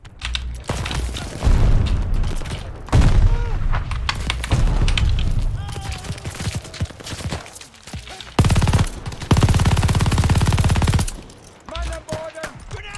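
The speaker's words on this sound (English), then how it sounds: "Those guns are massive!" Massive guns in the Call of Duty Vanguard shooter let loose dense, loud bursts of rapid automatic fire and booming impacts, in heavy stretches broken by short pauses, with brief shouted voices between them.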